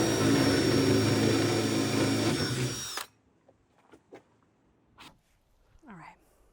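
A granddad's hand-me-down power drill whines loudly and steadily for about three seconds, then stops abruptly, leaving near-quiet with faint knocks and handling sounds.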